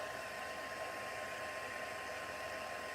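A heat gun blows steadily while drying acrylic paint on paper, a constant, even hiss-like whoosh with no pauses, heard close and alone.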